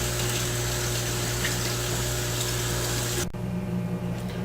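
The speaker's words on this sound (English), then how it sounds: "we're going to rinse these beans off. A little bit of cold water." Cold tap water runs in a steady broad rush over beans being rinsed for vegan burgers, close and continuous, then stops abruptly near the end, leaving a faint background hum.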